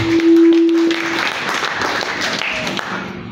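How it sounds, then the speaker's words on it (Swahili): A church congregation clapping together, dense sustained applause filling the room, with a brief tonal hum at the start and the crowd noise holding steady to the end. "Hebu pigia Yesu makofi mazuri."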